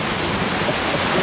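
Dense, steady hail pelting down outdoors in an Eastern Kentucky hailstorm, a continuous loud broadband patter like heavy rain on surfaces, with no voices.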